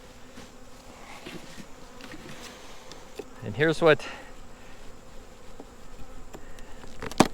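Honeybees buzz steadily around an opened beehive with a divider board, a low continuous drone with a louder burst of close wingbeats partway through. Someone speaks briefly over the hum.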